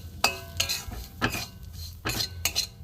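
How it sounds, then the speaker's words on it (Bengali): A spoon stirs and scrapes semolina in ghee in a hot pan, with a few distinct, close metallic clinks and scrapes at an irregular pace and no talking. "সুজিটা আমি একটু ভালো করে নাড়বো"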